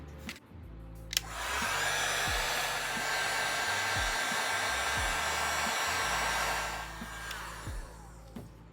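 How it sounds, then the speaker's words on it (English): A heat gun blasts steadily for about six seconds, close and loud, warming the adhesive holding a BMW E92 M3 DCT shift knob, with a faint switch click at the start and soft handling knocks beneath the hum. "I need to heat it up with a heat gun because it's held in with some glue or some kind of a adhesive tape"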